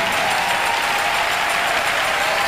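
Audience at a women's church congress breaking into loud, sustained applause, dense steady clapping that fills the space evenly from start to finish with no pause and no voice on top.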